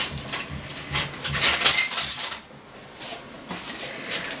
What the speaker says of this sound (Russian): Вот у нас столовая ложка.